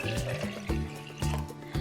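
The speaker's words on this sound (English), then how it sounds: "first we'll start off by pouring our water into the vase" Water poured into a tall vase, a steady liquid gurgle with repeated bubbling surges about every half second, close and moderately loud with no voices.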